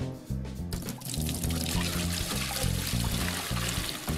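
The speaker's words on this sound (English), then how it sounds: "That faucet needs to get fixed. Spraying all over the place." A faucet sprays and pours water to fill an aquarium in a fish store simulator game, a loud steady gushing stream that runs continuously from start to finish.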